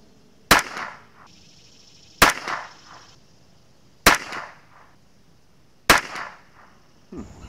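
Four sharp .22LR rifle shots fired with Wolf Match Target ammunition, evenly spaced about two seconds apart, each a loud crack with a brief tail, plus a fainter thump at the end.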